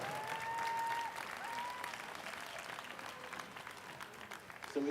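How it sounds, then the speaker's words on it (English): Sustained applause from a large crowd at the US National Table Tennis Championships finals, steady and fairly loud throughout, with a few faint whistle-like tones early on. "big round of applause for Amy Wong of Lillian Table Tennis Club"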